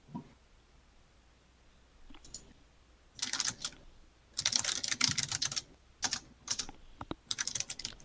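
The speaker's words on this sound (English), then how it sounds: "somebody here has one of those real fancy mechanical keyboards" Clattering bursts of typing on a fancy mechanical computer keyboard, close and fairly loud, coming in uneven runs of rapid clicks separated by brief pauses, with no talking over it.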